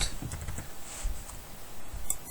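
Computer keyboard being typed on while writing code: a quick run of soft, close clicking keystrokes, quiet and irregular, without speech.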